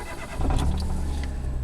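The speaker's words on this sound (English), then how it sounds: "So we'll start the car now." Citroen C1 running on LPG starts on petrol on a warm day: the starter cranks briefly, then the small engine catches and settles into a steady idle up close.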